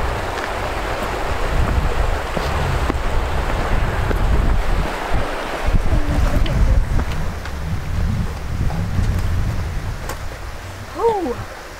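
Wind gusting at the seaside with surf rolling in, a steady broadband roar that swells and eases, with a voice speaking briefly near the end.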